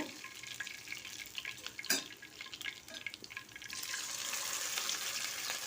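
Pabda fish sizzling in hot oil in a pan, a steady crackling hiss with scattered pops that thickens and grows louder toward the end, with no talk.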